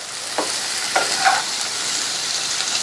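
Mixed vegetables sizzle steadily in a pan, a continuous soft hiss broken by a few light scrapes of a spoon stirring them.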